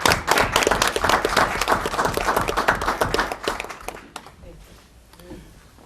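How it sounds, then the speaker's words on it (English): Audience applause fills a city council meeting chamber: dense, steady clapping from many hands for about four seconds, then thinning out and fading to quiet room tone with faint murmuring. "I want to give you a round of applause on that."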